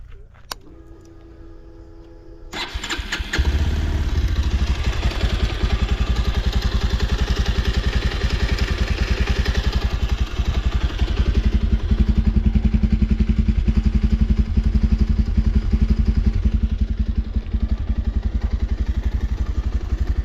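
A 2023 Bajaj Pulsar 150 BS6 motorcycle, neglected and rat-damaged, cranks and fires, then idles close by with a steady, loud, rapid putter for the rest of the time.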